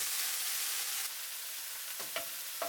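Beef pieces for Japanese curry sear in a hot pan with a steady, fairly loud sizzle, then a couple of brief clicks or scrapes near the end.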